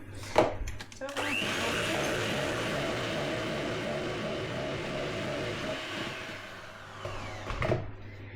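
An electric mixer beats five eggs for a Christmas fruit cake, a steady, fairly close whirring drone running for several seconds between short clatters at the start and end.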